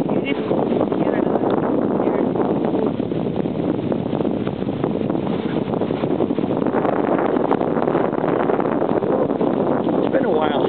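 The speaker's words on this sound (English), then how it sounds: "Yeah, we're getting a north wind today" A strong north wind blows across a hilltop and buffets the microphone with a constant loud roar and rumble. Muffled voices sit faintly underneath.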